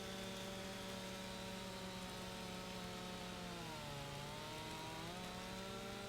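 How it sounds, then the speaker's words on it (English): A steady, droning chainsaw cuts through wood in Farming Simulator 25. The motor pitch dips briefly partway through, then recovers, and the sound runs continuously with no voices. "Come on, chainsaw."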